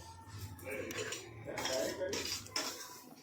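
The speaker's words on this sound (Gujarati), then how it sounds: "તે ઘઉંનો લોટ આપણે થોડો થોડો અંદર એડ કરતા જઈશું અને તેનું ખીરું બનાવતા જઈશું" A spoon mixes wheat flour batter for malpua in a bowl, making soft clinks and scrapes against the bowl at close range over a quiet background.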